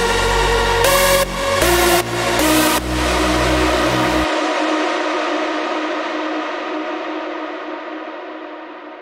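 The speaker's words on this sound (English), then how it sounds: "So with only that sidechained reverb, it sounds like this." Synth lead with sidechained reverb, a few loud sustained chord-like notes in sequence with short gaps, then a long washy reverb tail fading out over several seconds after the notes stop.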